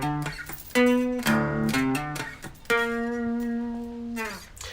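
An electric guitar plays a riff, with short picked notes and a few sustained ones ringing cleanly at moderate volume with no talk.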